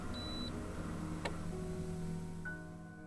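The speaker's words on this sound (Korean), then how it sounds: "나는 리모컨을 들어 교무실 에어컨을 껐다" An office air conditioner is switched off by remote, giving a short high electronic beep. A second brief tone follows, over a quiet low hum with a light tick in between.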